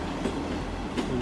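A Voyager passenger train rumbles past close by at Exeter St Davids station, its steady roar broken by the clack of wheels over rail joints.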